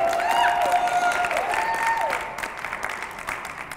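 A press conference audience applauds and cheers, steady dense clapping that starts strong and slowly fades over a few seconds, with a few voices mixed in.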